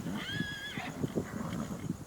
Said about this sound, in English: Got some curious horses.